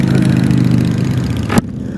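Victory Hammer 8 Ball motorcycle engine idling with a steady low rumble, loud and close, cut off by a brief noisy burst near the end.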